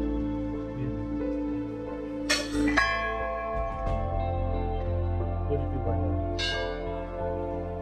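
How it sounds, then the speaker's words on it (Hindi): Metal temple bells ring at the Ghorakhal bell temple, which is hung with many bells. Several separate strikes leave bright, lingering tones that overlap over a low background hum. "इसमें कई लाख घंटे हैं, कई लाख। देखो जी कितने घंटे है ना"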